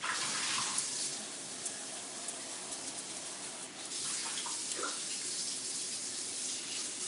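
A tap runs steadily, a continuous splashing flow of cold water into a basin that keeps an even level for several seconds, with no talking.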